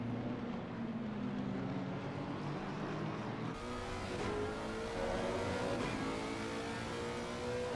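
Race car engines from Assetto Corsa Competizione at Zandvoort, a McLaren among them, drone steadily with rising and falling pitch throughout, a continuous loud whine with a shift in tone partway through.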